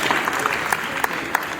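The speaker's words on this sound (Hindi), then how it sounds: "ताली को बजा दो दोस्तों।" Brief burst of audience clapping at a school computer lab ceremony, a scattered crowd applauding together at moderate distance for a moment.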